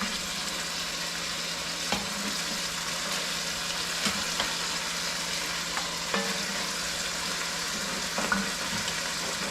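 Beef browning in a pot for braised chili, an even, steady sizzle running throughout, with occasional clinks and scrapes of stirring and no talking.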